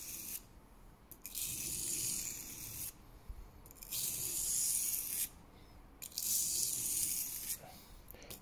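Kitchen knife blade stroked repeatedly across a Lidl Parkside sharpening stone, producing rhythmic gritty scraping passes of about a second each, separated by brief pauses, close and clear with no talk.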